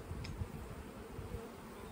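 Honey bees buzz steadily around a brood frame lifted from a hive, a faint, continuous hum close by with no voices.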